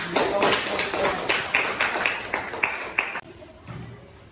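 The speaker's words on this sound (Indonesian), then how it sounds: "Harus tepuk tangan lagi." A classroom group at a teaching session gives a short burst of clapping, fairly close, that fades out after about three seconds into quiet room noise.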